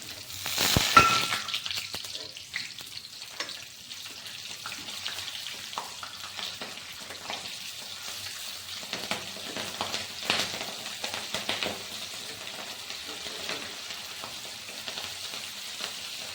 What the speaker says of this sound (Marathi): आता आपण याच तेलामध्ये वडापाव खाण्यासाठी जी मिरची लागते ती तळून घेणार आहे.